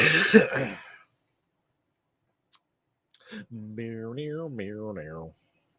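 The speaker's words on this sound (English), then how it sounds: "it's just had me coughing and hacking half the damn time" A single rough throat clearing, then quiet, a faint click, and a voice speaking briefly.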